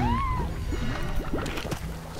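A cat-like slime in the video game Slime Rancher gives a short meow-like cry near the start, set against a busy game soundscape of watery sloshing, chirps and rumbling.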